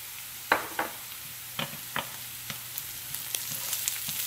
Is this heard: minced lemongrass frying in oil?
yes